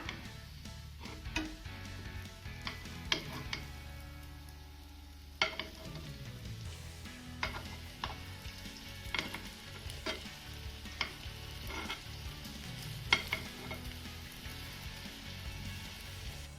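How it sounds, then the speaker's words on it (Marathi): Carrot balls roasting in ghee in a pan, a continuous gentle sizzle broken by repeated clicks and scrapes as they are turned, close and with no one talking. "आता पलटी बाजूने सुद्धा आपण छान असे भाजून घेऊया"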